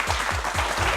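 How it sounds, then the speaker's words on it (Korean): A lecture-hall audience applauds to welcome two guests, a brief burst of dense, even clapping heard close and steady throughout. "두 분의 주인공 박수로 모시겠습니다."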